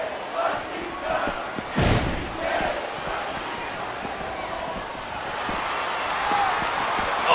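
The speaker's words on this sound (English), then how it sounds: "Just listen to his body crash into the ground" In a WWE video game Elimination Chamber match, a wrestler's body crashes into the ground with one sharp, heavy slam that stands out from the crowd noise, while a commentator keeps talking.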